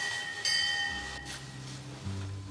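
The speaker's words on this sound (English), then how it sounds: "What's a bell doing inside a crypt?" A bell rings inside a crypt, with a bright metallic strike followed by a long ringing decay and low resonant hum echoing in the enclosed stone space.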